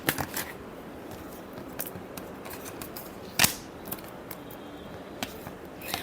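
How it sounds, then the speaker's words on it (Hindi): Tarot cards being shuffled in a quiet room, with soft riffling and scattered light taps through a steady hush, a sharper snap standing out near the middle. "चलिए लास्ट शफल देखते हैं।"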